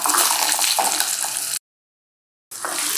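Amla, Indian gooseberry, going into a hot pan for pickle, with a loud, close, continuous sizzle and crackle that briefly cuts to silence, then resumes.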